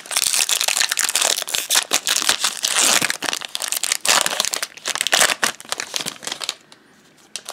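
Magic: The Gathering booster packs being torn open, loud continuous crinkling and ripping of foil wrappers close up, bursts coming one after another for several seconds before dropping away.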